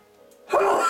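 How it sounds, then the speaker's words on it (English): A single sudden sneeze bursts out loud and close after a short, quiet intake of breath. "And I'm gonna sneeze."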